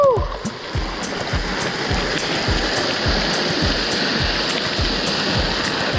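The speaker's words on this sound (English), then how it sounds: "Here's a waterfall, baby!" A waterfall in San Cristobal canyon, Puerto Rico, gives a loud, continuous rushing roar of falling water with splashing, heard up close, while people talk and shout nearby.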